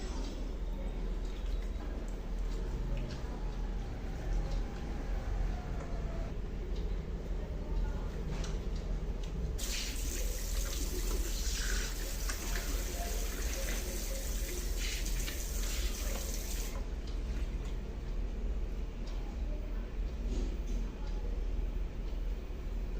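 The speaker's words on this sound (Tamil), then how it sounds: "ஃபேஸ் வாஷ் பண்ணுறோம்." A tap runs steadily into a sink while a face is washed with moringa face wash. The water keeps up a continuous splashing flow that swells into a louder gush for several seconds midway before settling back.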